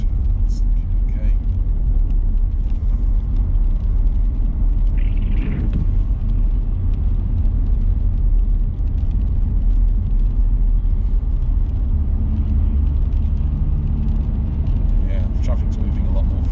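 Road noise from inside a car driving through traffic toward an airport turn-off: a steady low rumble with the hum of passing vehicles and a brief hiss, loud and constant throughout.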